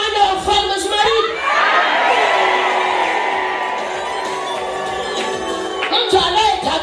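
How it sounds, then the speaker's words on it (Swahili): A church congregation cheering and shouting together, a loud sustained swell of voices with whoops and rising cries, mixed with speech at the start and end. "Unaanza kushangilia, usinyamaze."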